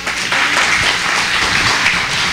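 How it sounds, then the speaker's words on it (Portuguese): Church congregation applauding during a Portuguese-language sermon on faith, a dense steady wash of clapping that stays loud and close for the whole stretch with no break. "Aplauda bem forte ao Senhor."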